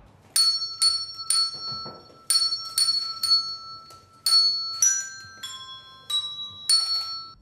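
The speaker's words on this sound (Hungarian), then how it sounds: "Ötven ilyen kis harang is megszólal majd a programok során" Small bells ring out in a series of bright, clear strikes, each chime ringing and fading before the next, at several different pitches.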